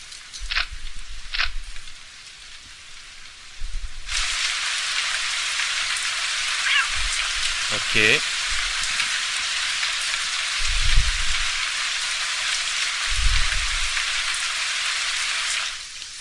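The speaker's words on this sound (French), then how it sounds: "le son de la pluie change?" Steady rain in the video game Postal 2: Paradise Lost pours in a continuous hiss, briefly quieter before getting louder, with a few soft thumps and a short spoken word partway through.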